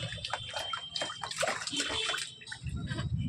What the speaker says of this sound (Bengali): গায়ে জল ঢাল, গায়ে জল দেবো